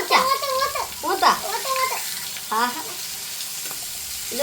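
Snack pieces frying in hot oil for the Kerala sweet idimutta, sizzling close by under intermittent talk from a woman.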